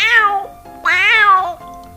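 Two drawn-out, cat-like meows in quick succession, loud and close, each sliding downward in pitch, from a vehicle horn that imitates a cat.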